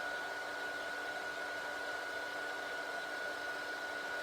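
A one-speed heat tool used for embossing blows a steady, even whoosh with a thin high whine, running alone without a break.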